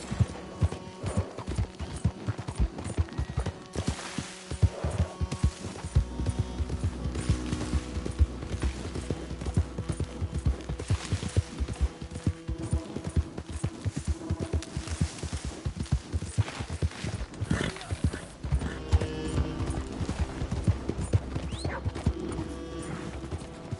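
Horse hooves galloping in Red Dead Redemption: a rapid, continuous clip-clop rhythm lasting the whole stretch, loud and close, over game music and ambience, with an occasional whinny.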